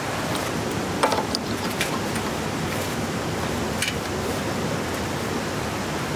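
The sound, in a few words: water gushing from a hose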